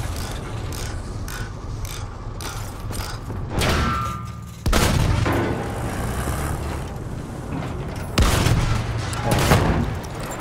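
Battlefield 1 gunfire: loud bursts of shots and heavy thuds over a steady rumbling vehicle engine in a game battle, with sharp peaks that recur throughout.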